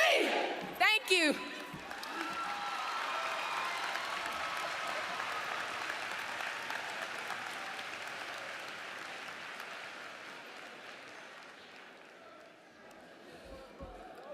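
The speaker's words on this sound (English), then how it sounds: "Clap it up" An audience at a Cordova High School gathering breaks into applause after a sharp opening burst, a broad, steady wash of clapping that slowly thins and fades toward the end.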